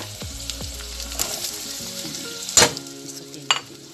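Garlic and onion sizzle steadily in a hot pan, with a few close clinks and scrapes of stirring over the continuous frying hiss.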